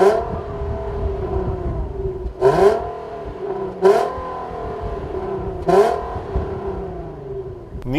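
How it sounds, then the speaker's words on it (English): An Infiniti Q60 car accelerates hard at full throttle from 0 to 60 mph, its engine rising steadily in pitch through several gear shifts, each marked by a brief drop before climbing again, loud and close. "Well, only one way to find out, and that is to floor it"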